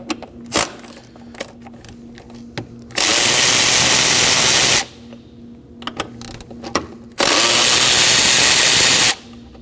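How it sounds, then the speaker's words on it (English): A power tool with a 10mm socket spins out throttle body bolts on a Kia Optima, in two long loud bursts of whirring with clinks and ratchety handling sounds between them. "Using a 10mm socket, go ahead and remove the four 10mm bolts."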